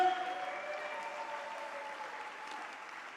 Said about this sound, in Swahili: Washindi wangempigia Jehova makofi ya shangwe.